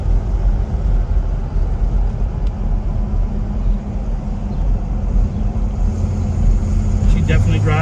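A 1970 Pontiac GTO cruising on the road, its steady engine and road rumble droning continuously and fairly loud from inside the car, with occasional light rattles near the end.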